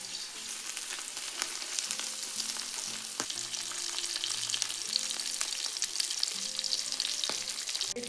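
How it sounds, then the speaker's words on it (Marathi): Boneless tilapia fish pieces frying in oil, a steady crackling sizzle with scattered pops and a few clinks of a utensil, close and continuous. "पीस बघा किती भारी फ्राय होते"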